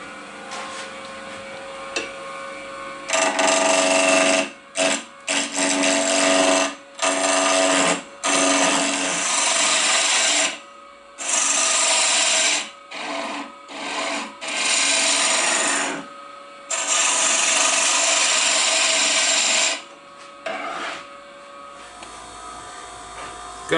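Wood lathe spinning an ebony pen blank on bushings, with a rough, scratchy abrading sound coming in repeated bursts of a second or two separated by short gaps, close and fairly loud over a faint motor hum.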